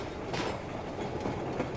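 Train cars roll along the track in the video game Metro Exodus, a steady rumbling clatter with faint rhythmic clicks of wheels over rail joints, continuous and moderately loud.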